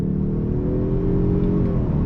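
A 2021 Mazda 3 Turbo engine revs hard under acceleration near 6,000 RPM, a loud, steady, rising drone heard from inside the car with no talking.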